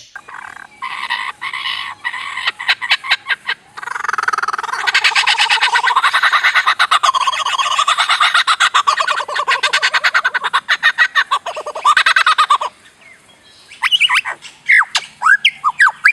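A lyrebird gives a loud, close stream of mimicked calls: rapid clicking bursts, long warbling squawks and croaking notes, then shorter whistled phrases after a brief lull.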